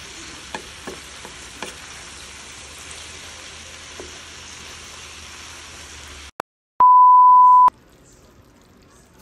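Kangkong with pork stir-fries in a pan, a faint steady sizzle with a few light utensil taps, then sudden silence followed by a single sustained electronic beep.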